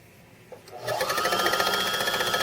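A sewing machine starts up and runs a steady rapid stitch down the center of fabric, its close, even mechanical chatter continuing to the end without talk.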